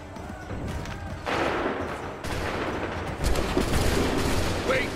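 Musket volleys ring out in Assassin's Creed 3 as a battlefield fusillade, with dense crackling gunfire surging in waves and a heavier volley toward the end, loud and close amid the din.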